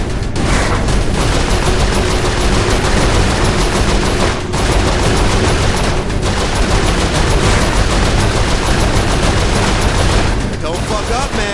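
Sustained turret gunfire from the Saints Row IV video game, a dense, loud, continuous rattle of rapid shots with booming impacts, running almost unbroken with a couple of brief gaps.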